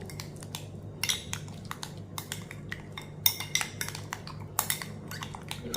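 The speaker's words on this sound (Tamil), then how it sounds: "இதை எல்லாத்தையும் நல்லா மிக்ஸ் பண்ணிக்கிடுவோம்." A utensil clinks and scrapes against a bowl in bursts of irregular stirring strokes, mixing ragi sprout ingredients, close up, with a faint steady hum underneath.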